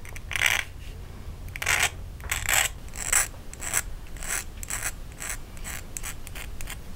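A hand file rasps along the edges of a small metal tab-set jewelry pendant in repeated bursts of short, scratchy strokes with brief pauses between them, up close and with no talking.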